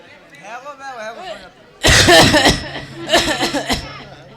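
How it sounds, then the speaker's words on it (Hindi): After some soft talking, a loud burst of exaggerated coughing, then a second fit of coughs, close and forceful, performed by a voice in a Ramlila stage play. "मैं खांसता हूं"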